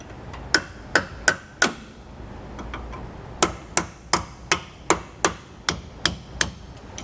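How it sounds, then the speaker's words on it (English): Hammer and steel punch knocking out suspension bolts during a Roadmaster Comfort Ride install on a 2020 Grand Design Momentum fifth-wheel: a quick run of four sharp metallic strikes, a pause, then about nine more steady, evenly spaced blows, close and loud. "I grabbed my punch, and we're just gonna finish knocking it the rest of the way out of there"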